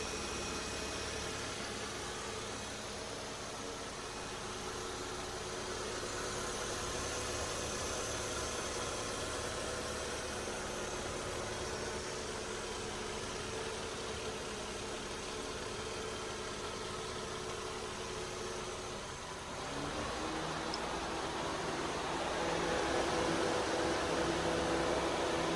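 A Mercedes-AMG car idles with its air conditioner running, a quiet steady engine hum and fan whir that shifts slightly near the end.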